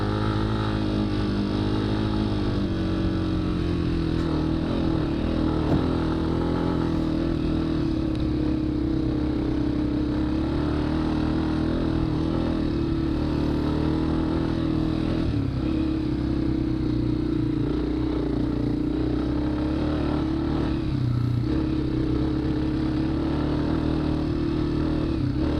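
A dirt bike engine drones continuously through a hare scramble race lap among windmills, its motor holding a steady loud rumble with small shifts in pitch as the rider works through the course, close and without talk.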